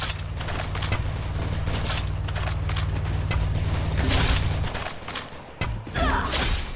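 Dense gunfire and thuds from the Garena Free Fire video game, continuous and busy, with a steady low hum underneath and brief dips near the end.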